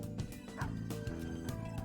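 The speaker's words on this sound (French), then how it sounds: "Tiens, encore des chiens là." Dogs bark in Persona 5 Royal, short yelps partly buried in a dense mix of game music and ambience, a few quick barks spread across the moment.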